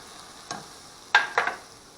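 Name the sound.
soy sauce poured into pan, sizzling with egg roll filling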